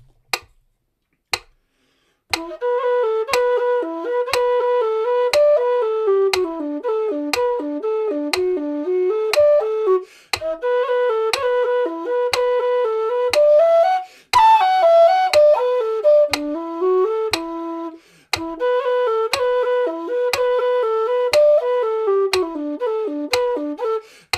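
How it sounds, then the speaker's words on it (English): Low whistle playing a slow tune over a metronome click at 60, steady ticks throughout with melodic phrases pausing briefly for breaths, close and clear. "click set to 60, same thing on low whistle"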